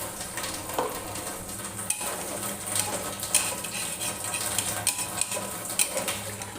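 Potato and pointed gourd curry frying in a pan with a splash of water added, giving a steady low sizzle and bubbling with scattered light scrapes and clinks of a utensil, no voices.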